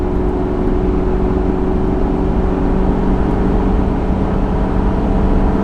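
A Ford F350 Powerstroke diesel pickup at wide open throttle while towing up a steep 6% grade gives a loud, steady low engine drone with a constant harmonic hum and road rumble inside the cab. No talk.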